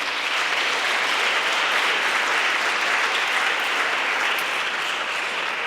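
A dense, even wave of audience applause fills an indoor award ceremony for the 2021 European Charlemagne Youth Prize in Aachen, sustained and loud from start to finish with no voices over it.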